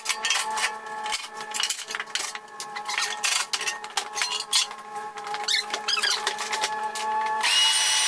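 Power drill backing screws out of a Porter Cable PCB270TS table saw during repair, a continuous whirring drone with short bursts and pauses, close and fairly loud, ending in a steadier higher-pitched run.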